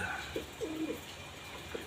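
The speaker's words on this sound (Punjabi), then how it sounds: "ਕਾਲ ਸਾਖਾ ਕਬੂਤਰ ਜਿਹੜਾ ਗੁੜਕਦਾ ਫਿਰਦਾ ਆ" A Kal Sakha breed pigeon cooing, a few soft, low, rolling coos at close range against a quiet background.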